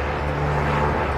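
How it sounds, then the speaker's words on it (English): A blimp passing overhead produces a steady, droning engine hum with a low propeller tone, continuous and moderately loud outdoors with no speech. "Sorry about the noise, there's a blimp flying over my head."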